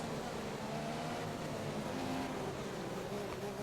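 Formula One car engines in the F1 2015 racing game, a steady droning whine of engines at speed, constant and fairly quiet throughout with no talk.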